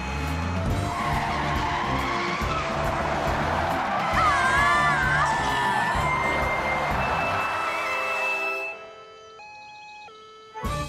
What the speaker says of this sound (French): Julie, appuie à fond sur la pédale de frein.